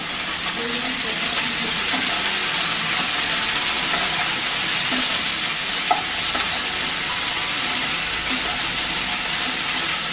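Chopped capsicum lightly frying in a pan makes a loud, steady, hissing sizzle that runs unbroken, with one brief clink partway through.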